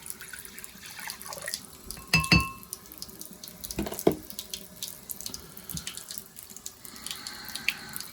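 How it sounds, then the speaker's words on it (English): Water splashes and trickles into a container, with a couple of sharp clinks and bumps against the vessel. "Now, we'll pour that in our measuring cup."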